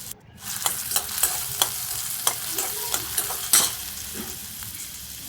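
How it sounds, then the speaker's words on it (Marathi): Onion and curry leaves fry in a pan with a steady hiss while a spoon stirs and scrapes, leaving sharp clicks at a regular pace, close and fairly loud, with no voices. "कांदा चांगला भाजून घेतला थोडासा लाल होतोपर्यंत"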